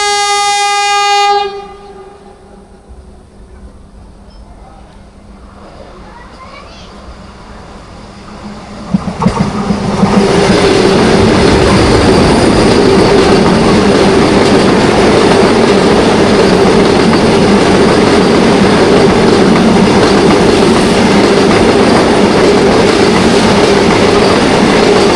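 A passenger train on the Kolkata to Puri route sounds a horn, then runs loud and close on the rails with a continuous roaring rumble and rattle heard from inside a general-class coach.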